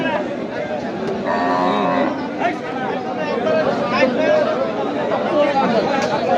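Cattle at the Panchagarh cow market moo in long, low, drawn-out calls that rise above a constant din of crowd chatter and bargaining voices, with people talking nearby throughout.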